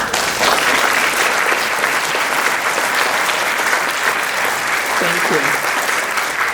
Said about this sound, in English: You don't have to clap after every section